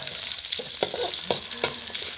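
Chili and garlic sizzle steadily in a thin hot wok, with a spatula scraping and clicking against the metal a few times as they are stirred.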